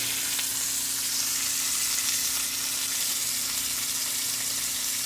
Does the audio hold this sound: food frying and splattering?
yes